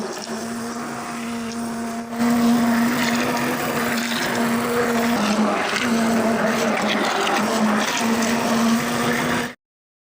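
A hand blender whirs through about ten kilograms of saag, a steady loud motor whine with wavering pitch as the blades churn the thick greens, then cuts off abruptly near the end.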